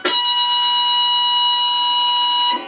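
Electric guitar played through an effect pedal with its rate set near three o'clock, ringing as one loud, bright, sustained note for about two and a half seconds before cutting off abruptly.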